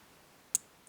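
A single sharp click of a pin setting while a Trabex multipoint lock from Argentina is being picked, one brief faint snap against near silence.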